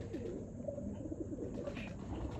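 A male Teddy pigeon cooing softly in low, rolling repeated calls, faint and close against a steady background hum.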